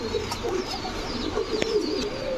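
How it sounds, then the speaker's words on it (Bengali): White racer pigeons coo in soft, repeated low rolling calls at close range, a steady pulsing murmur with faint background noise. "এই যে দেখেন নরের ব্যালেন্স দেখেন, এই হচ্ছে দেখেন কবুতরটা"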